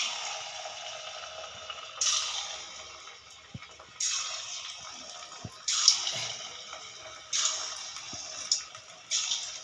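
Kurkure snack sticks frying in hot oil in a home kitchen, faint bubbling sizzle that swells in repeated bursts every couple of seconds, with occasional small clicks.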